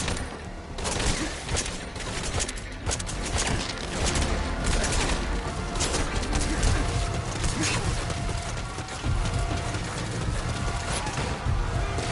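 Gunfire in Metal Gear Solid 5 as enemies open fire after a vehicle spots the player: irregular, continuous bursts of shots across a busy battlefield mix, fairly quiet overall, with a voice talking at times.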